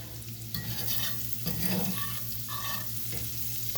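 Bacon and sautéed vegetables sizzle steadily in a cast iron skillet, a close, constant frying hiss with occasional stirring scrapes.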